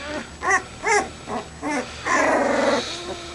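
A puppy growls close by in a series of short rumbling snarls, then one longer sustained growl, with no talking.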